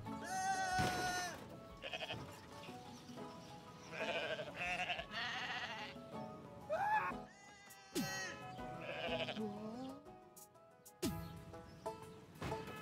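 Goat bleating in Goat Simulator 3, a string of loud, wavering bleats with several repeated cries across the stretch, separated by brief gaps, with faint game sounds between them.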